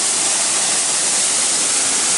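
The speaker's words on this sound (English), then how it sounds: "this is waterfall it's a waterfall" A waterfall at a tourist site near Fort Portal roars as a loud, steady, broadband rush of falling water, close and unbroken, with no talking.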